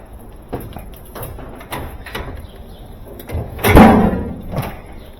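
The lid of a Speed Queen TR7 washing machine is lifted open, a hollow metallic creak and thump rising near the end after several lighter knocks and handling clatters, close and moderately loud.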